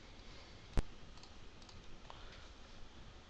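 A single sharp mouse click on a computer running an emergency room simulator, one brief near click over a faint steady room hiss.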